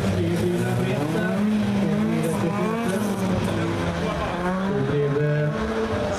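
Several race cars run three abreast at Målilla, engines roaring loudly and continuously with tires squealing, while a commentator talks over the racket.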